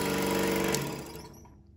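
A scroll saw runs with its blade stroking rapidly up and down like a sewing machine needle, giving a loud, steady mechanical buzz that gradually winds down and fades near the end.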